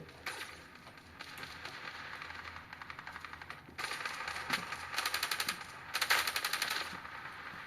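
Rapid automatic gunfire from the mobile shooter Standoff 2, several dense bursts of crackling shots with short gaps between them, the loudest volley near the end, and no talking.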